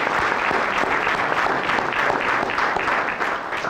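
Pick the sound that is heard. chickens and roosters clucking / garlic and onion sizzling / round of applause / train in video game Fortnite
round of applause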